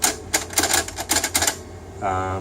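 A Wright Line 2629 alphameric card punch typing on a card: a quick run of sharp mechanical clacks and thumps, loud and close, ending in a steady whirring hum.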